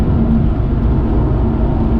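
A 2008 Aston Martin V8 Vantage on a country road, its engine a steady, loud low rumble throughout with a constant tone, close by and without talk.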